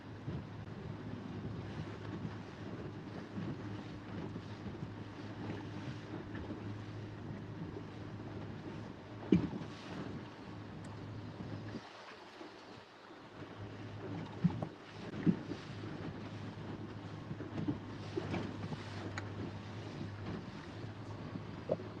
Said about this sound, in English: Looks like the wind's settling down a little bit.